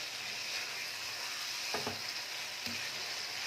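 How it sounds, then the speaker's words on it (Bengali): Masala for mutton keema stir-fried over a medium flame, a steady close hiss of frying with a few brief scraping knocks of a spatula against the pan. "কিছুক্ষণ ভালোভাবে কষবো মশলাগুলোকে। অনবরত এটাকে এখন নাড়াচাড়া করে নিতে হবে।"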